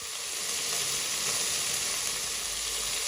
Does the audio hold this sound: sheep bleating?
no